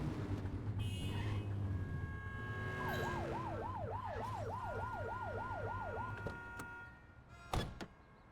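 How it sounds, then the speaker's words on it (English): Police car siren in The Precinct, a GTA-like police video game, wailing in a rapid repeating yelp for about three seconds over engine hum, followed by a couple of sharp clunks near the end. "Get behind them and blip the siren to make them pull over."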